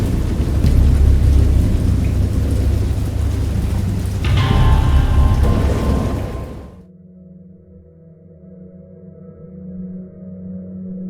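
Heavy rain pours steadily with deep rolling thunder in the video game Dagon, then cuts off abruptly into quiet low humming tones.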